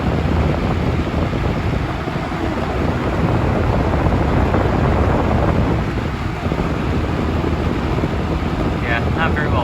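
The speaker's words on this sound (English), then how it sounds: "all in all the fan's pretty smooth. Very minimal shaking." A 1980s Super 3714 20-inch box fan running, producing a loud, close, continuous whooshing roar of moving air that stays steady with no pauses.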